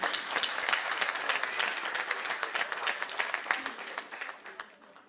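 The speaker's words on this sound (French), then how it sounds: "je voudrais qu'on les applaudisse et qu'on applaudisse la fierté marocaine" A large crowd applauds at a Moroccan independence anniversary gathering addressed by a Mantes-la-Jolie town official, the loud, dense clapping holding steady before tapering off near the end.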